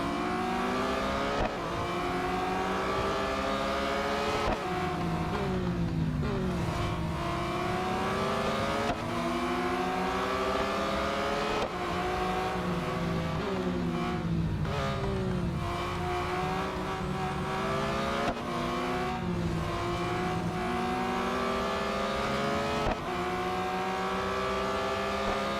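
Race car engines in Real Racing 3 with a field of Porsches, several engines revving and surging continuously at full volume, pitches sweeping up and down through gear changes with no talk.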